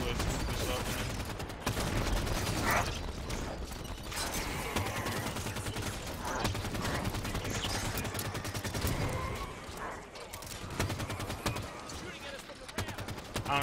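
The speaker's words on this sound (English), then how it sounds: "I understand that he's shooting us from the ramp" Enemy gunfire in Halo 5: Guardians, an opponent firing down from a ramp, comes as dense, continuous shooting and impacts mixed with game noise and a talking voice.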